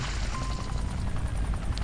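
Rotor noise from a helicopter in the game Bad Day in L.A. rolls on as a constant heavy whir with faint blade pulsing, close and unbroken, nobody talking over it.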